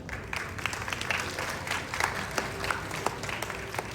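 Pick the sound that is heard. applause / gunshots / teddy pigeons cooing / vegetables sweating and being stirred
applause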